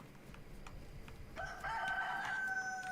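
Rooster crowing in the survival video game DayZ: one drawn-out crow rising partway through, clear and fairly close, over a low ambient hum and a soft repeating tapping.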